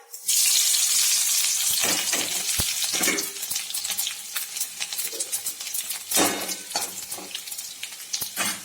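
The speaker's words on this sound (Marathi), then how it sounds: "आता हे तेल कडकडीत असं तापलेलं आहे आणि त्याच्यामध्ये आपण फोडणीसाठी जिरे, मोहरी आणि लसूण घालूया" Cumin, mustard seeds and garlic crackle and sizzle in very hot oil while tempering a green chilli and cluster bean stir-fry, a loud, dense spitting hiss with sharp pops and stirring clatter throughout, no talking.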